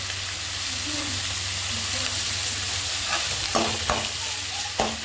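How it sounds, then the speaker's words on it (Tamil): Tomatoes sauté with salt in a pan for Maggi noodles, giving a constant loud hiss and sizzle, with a few scraping stirs near the end and no speech. "தக்காளி போட்டுக்கலாம். நல்லா வதங்கட்டும். லைட்டாக உப்பு போட்டுக்கலாம்."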